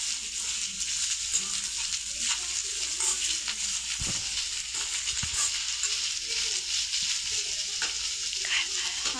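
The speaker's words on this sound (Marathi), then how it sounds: "आता आपण तेलामध्ये हे कारले परतून घेतलेले आहे. आणखी थोडा वेळ त्याला असं परतू द्यायचं." Sliced bitter gourd (karela) sizzles steadily in hot oil in a pan, a continuous close frying hiss with occasional soft stirring knocks from a spoon.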